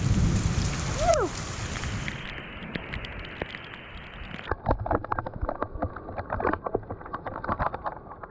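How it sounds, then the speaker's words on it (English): Torrential rain pours down on the Florida Gulf Coast, a dense hiss with a thunder rumble early on, then heavier irregular drumming of drops on a surface, no voices. "It's just torrential downpour."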